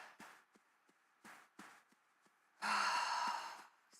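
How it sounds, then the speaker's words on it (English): A deep inhaled breath during a chair yoga session, drawn in loudly and close over about a second after several softer breaths and light taps. "Take a nice big breath."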